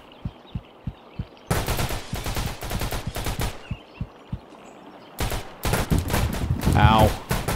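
Rapid gunfire rattles through a multiplayer stealth shooter, Intruder: single sharp shots repeat at an even pace, then two loud, dense bursts of automatic fire break out, with a player's voice briefly audible near the end.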